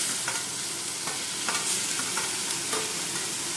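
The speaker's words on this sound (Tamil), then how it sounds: "இப்போ நம்ம டொமேட்டோ போட போகிறோம்." Tomato goes into golden-brown frying onions in a pan: a continuous loud sizzle broken by regular light taps and scrapes of a stirring spoon, with no speech.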